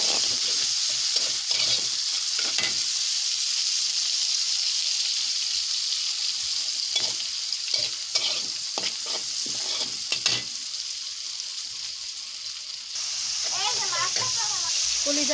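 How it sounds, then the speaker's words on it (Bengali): Washed dried fish fries with onion in a pan, giving a constant bright hissing sizzle with scattered scrapes and clatter of a stirring spoon throughout, no speech. "শুটকিগুলি ভালো করে ধুয়ে নিয়ে আসছি, এখন দিয়ে দিলাম, পেঁয়াজের সাথে একটু ভেজে নেব"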